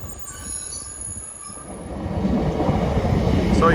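A train brakes to a stop at a station, its wheels letting out a loud, sustained high squeal that grows stronger toward the end, with faint voices in the background.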